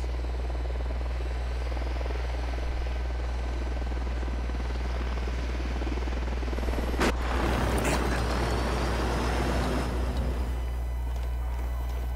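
A helicopter in Ghost Recon Wildlands thrums with a steady rotor drone, then a loud broadband whooshing burst swells midway and lingers for a few seconds before settling back.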